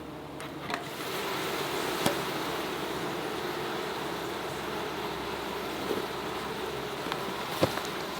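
Honey bees buzz at an open hive, a dense, steady drone that fills the whole stretch, with a few faint knocks and clicks and no talking.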